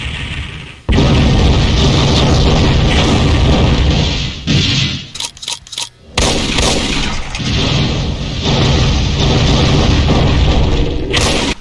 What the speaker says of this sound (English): an explosive fireball that emits explosions along with other floor-bouncing firebombs that explode after a while